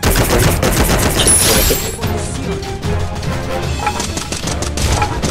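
Loud, rapid gunfire from the video game Free Fire, with sharp shots crackling in dense bursts that continue throughout.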